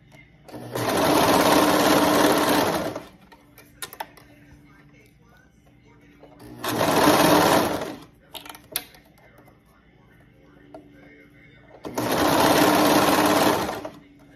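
Three separate bursts of a sewing machine stitching fabric, each lasting two to three seconds, loud and close, with quieter gaps of fabric handling and faint clicks between them.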